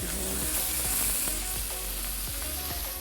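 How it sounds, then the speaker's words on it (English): Chicken wrapped in prosciutto fries in a hot pan, a loud, continuous crackling sizzle with scattered sharp pops and spits, close up and with no voices over it. "You really want to hear that sizzling sound."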